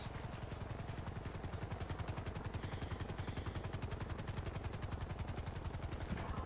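A helicopter's rotor thumps steadily in a video game while rapid gunfire rattles alongside it, a dense, continuous, loud pulsing with no gaps for the whole stretch.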